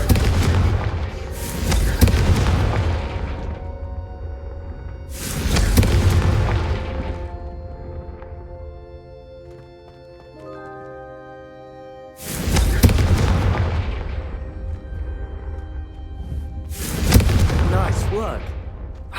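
Confringo fire spell cast in Hogwarts Legacy: four heavy booming blasts, each a loud fiery burst decaying over a couple of seconds, with a calmer musical stretch between them and some talk in the background.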